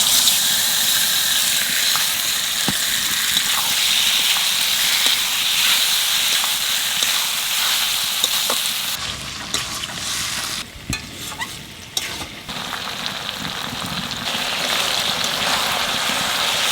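Pakal fish frying with onions and green chillies in hot oil, a loud, continuous close sizzle and hiss that shifts partway through as the pan is disturbed, with occasional soft stirring clicks and no talking.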